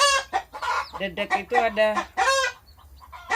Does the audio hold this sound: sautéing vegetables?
no